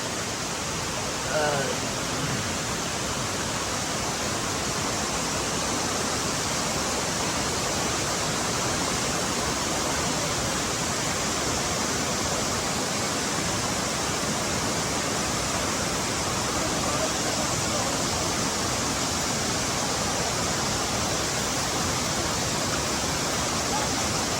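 Water flowing steadily from top to bottom into a small natural swimming pool in the countryside of Piduan, Don Victoriano, Misamis Occidental, making a continuous loud rushing wash that never lets up.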